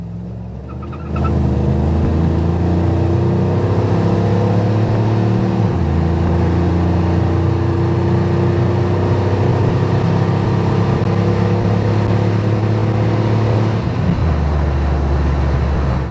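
A 1992 Chevrolet 454 SS truck idles low, then revs and pulls away on blacktop, a deep continuous rumble accelerating steadily for several seconds before easing off near the end.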